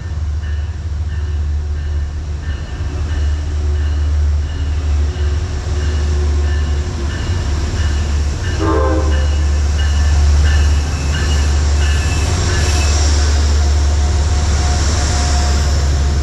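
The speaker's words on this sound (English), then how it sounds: "the New York Central Heritage Unit 211 arrives at the Merritt 7 station" New York Central Heritage Unit 211, a diesel locomotive, arriving at the Merritt 7 station: a loud, steady low engine drone with rumbling wheels, and a brief metallic squeal midway as it rolls in.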